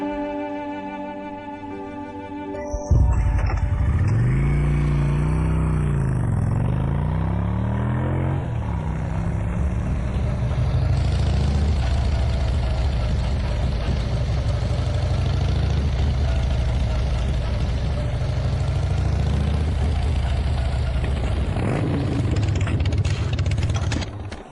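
A repaired motorcycle engine that had been running without oil starts after a brief quiet stretch, then idles and revs with rising and falling pitch before settling into a steady, loud running drone.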